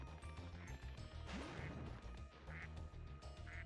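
Cartoonish ducks quack repeatedly in Spyro 2: Ripto's Rage, several short calls over game music, with a crashing impact partway through.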